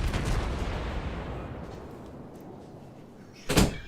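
A door closes as someone leaves the room, a single solid thud near the end after a fading rumble of game explosions in the background.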